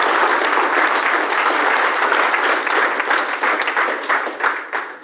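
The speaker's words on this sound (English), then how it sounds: "Give him a round of applause." An audience at a European out-of-home media industry summit claps loudly and continuously, a thick sustained roll of applause that thins slightly toward the end.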